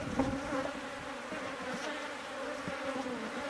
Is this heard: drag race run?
no